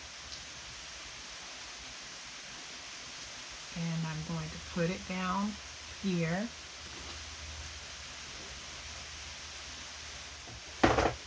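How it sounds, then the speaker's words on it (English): Steady heavy rain hisses throughout as broadband noise, with a person speaking briefly over it partway through and a sharp clatter near the end. "Can you guys hear that rain?"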